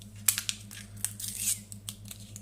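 Quick snipping of scissors, a few sharp cuts and crisp rustles, close by over a steady low electrical hum, while an e-cigarette coil is being changed.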